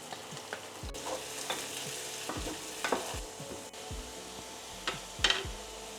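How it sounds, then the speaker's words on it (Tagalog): Carrots and long beans fry in hot oil, a steady low sizzle broken by repeated scraping strokes of a spatula in the pan and occasional clicks, close up with no talking. "Magpiprito muna tayo ng carrots at saka yung ating sitaw."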